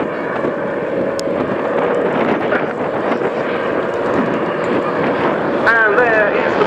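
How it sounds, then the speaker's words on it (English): Two Boeing Stearman biplanes of the Breitling WingWalkers team, wing walkers aboard, approach head on at Scampton Airshow, a steady broad engine drone and wind noise filling the air under a commentator's voice. "the two aircraft and the two wing walkers coming in head on to us"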